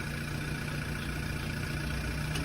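A 2018 car at a city auction idles steadily with a low, even rumble and constant mechanical hum, no voices over it.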